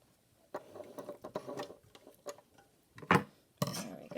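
A sewing machine stitches an isolation gown in short, irregular ticking bursts, close and fairly quiet, with brief mechanical clicks between stitches.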